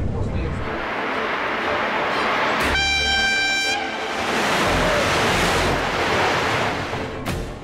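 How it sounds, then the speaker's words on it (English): A Sapsan high-speed train rushes along the track at 200 kilometers an hour with a steady roar, and a loud horn blast sounds for about a second partway through. "The train driver guides the Sapsan along the track at 200 kilometers an hour."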